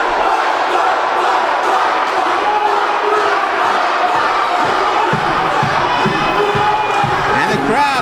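A wrestling crowd cheers and shouts during a brawl in the ring, a loud, dense roar of many voices sustained throughout with scattered yells rising above it.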